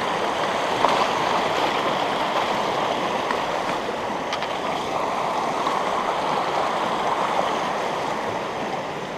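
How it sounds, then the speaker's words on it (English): Small mountain creeks run down a hillside beside a trail near a larger main creek, giving a steady, close, full rushing babble of water that stays even throughout with no talking. "There's all these different little creeks just running down."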